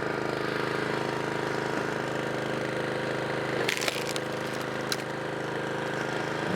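Harbor Freight Predator 20 ton log splitter with its engine running at a steady, moderate rumble, wood creaking and splitting with a couple of sharp cracks partway through.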